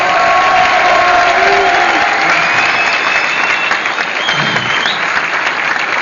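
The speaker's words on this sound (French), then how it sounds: "Ben écoute, merci, applaudissez-le." A large crowd at a comedy show applauds loudly and steadily, a dense wash of clapping with some cheering that holds for the whole stretch without a break.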